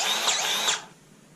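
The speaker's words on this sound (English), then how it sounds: "my grease gun's actually it's probably having a hard time pumping the grease in there" A grease gun fitted with a Lock n Lube XL coupler forces thick grease into a fitting, giving a close, loud, strained hissing squirt that lasts under a second before cutting off to near quiet.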